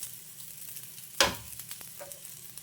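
Beetroot taalipattu flatbread flipped onto a hot pan, with one sharp sizzling burst at the turn settling into a quieter steady crackle; no talking.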